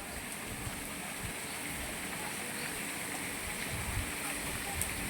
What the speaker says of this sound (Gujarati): એ રીતના જ વરસાદ થાય છે